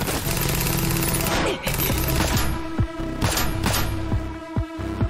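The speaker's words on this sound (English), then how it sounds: "So just like the original machine gun." Machine gun fire in the Terminator Zero animated show, loud sustained bursts followed by separate sharp shots, with a soundtrack underneath.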